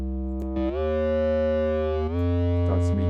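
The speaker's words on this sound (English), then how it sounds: "Got some distortion." Distorted synth bass in Bitwig, a thick stacked bass tone held steadily with a sustained buzzing, harmonically rich drone, shifting pitch slightly partway through, loud and alone.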